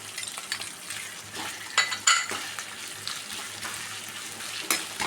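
Crushed ginger, garlic and green chillies fry in a pan with a steady close sizzle, broken by a few sharp stirring and metal clinks, and no one talks.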